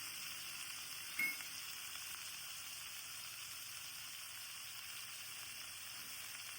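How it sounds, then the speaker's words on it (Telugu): Onions and dried prawns sizzle steadily in a hot pan for a brinjal and dry prawn curry, a constant close hiss with one brief clink early on and no talking. "ఉల్లిగడ్డ రొయ్యలు కొంచెం ఫ్రై కావాలి లేకపోతే కొంచెం నీసు వాసన వస్తుంది"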